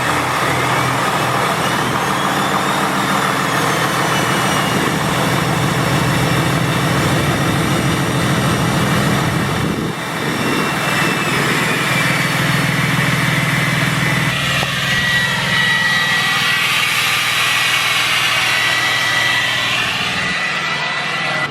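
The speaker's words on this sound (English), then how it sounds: "I'm actually gonna go give you guys an outside cold start." A new Cummins diesel engine cold-starts outdoors after priming, its loud exhaust roaring steadily and close for about twenty seconds, with a brief dip in the middle and a shift in tone near the end.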